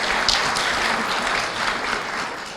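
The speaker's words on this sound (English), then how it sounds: "Round of applause, please." An audience at a high school ceremony honoring top students applauds a teacher and mentor, a steady, even wash of clapping that holds for a couple of seconds before easing slightly.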